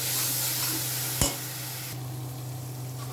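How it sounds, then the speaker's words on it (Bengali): A spice paste sizzles in oil with a little water added, giving a steady close hiss over a low hum, with one sharp knock of a utensil partway through and no voices. "মশলাটা একটু ভাজা ভাজা হোক ভালো করে"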